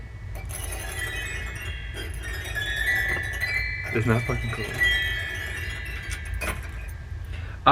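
A bunch of keys shaken and jangled close by, giving bright metallic chinks and clinks in bursts, with someone talking over the sound.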